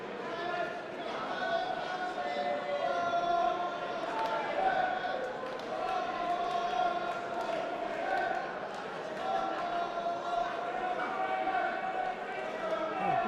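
Crowd gathering for a live boxing night at the Guildhall in Preston: a steady, dense murmur of many voices filling a large indoor venue, constant and moderately loud, with talk running over it.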